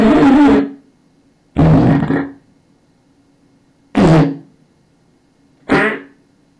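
Cartoon fart effects in a video game bathroom, four loud, blaring blasts spaced roughly a second or more apart, each lasting under a second, with near silence between them.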